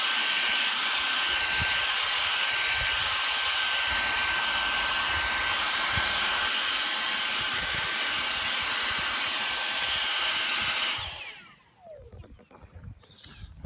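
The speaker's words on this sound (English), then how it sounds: "It's a stick vacuum. This is the fun part. You use the vacuum to suck up the heads." A V6 Animal stick vacuum sucks up dandelion seed heads with a loud, steady high-pitched whine, then cuts off near the end, leaving faint rustling and handling noise.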